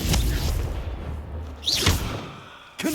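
A Confringo fire spell cast in the Hogwarts Legacy video game bursts with a dull booming blast and whoosh, followed moments later by a second thump over steady low game rumble.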